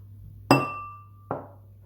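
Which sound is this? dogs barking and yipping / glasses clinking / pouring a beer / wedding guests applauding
glasses clinking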